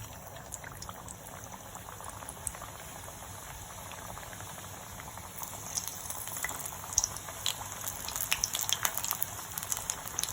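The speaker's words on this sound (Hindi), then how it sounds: "मछली समोसा को मैं तेल में डाल रही हूँ।" Fish samosas frying in hot oil in a home kitchen, giving a steady, fairly loud bubbling sizzle that thickens in the second half, with no talking.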